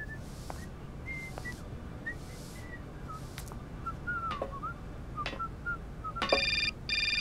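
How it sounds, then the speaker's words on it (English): A phone rings in the adventure game Syberia, a repeated electronic chirping tone that sounds in short bursts over steady background hiss, ending in a brighter buzzing ring. "Oh, phone call."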